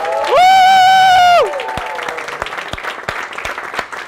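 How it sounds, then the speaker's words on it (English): An audience at a guest interview event lets out a loud, sustained whooping cheer, then breaks into steady applause that carries on to the end. "Can we give a big round of applause for? Woo!"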